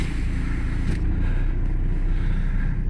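A Peugeot 308 diesel automatic idles steadily after starting, a constant low engine rumble close by with no talking over it.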